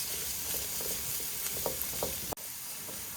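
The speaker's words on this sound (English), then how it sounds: "as soon as that onion and garlic hits the hot pan" Onion and garlic frying in hot olive oil: a dense, steady sizzle with a few soft stirring scrapes, then a sharp click and a brief drop partway through, after which the sizzle continues.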